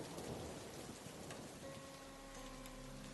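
Steady rain pours during a thunderstorm, a dense continuous hiss with a low rumble, quiet and constant, while a faint tonal music drone enters partway through.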